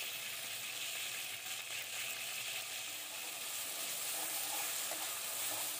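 Onion, garlic and ginger pastes sizzle in a pan for a beef liver bhuna, giving a steady, close, bright frying hiss that continues without a break.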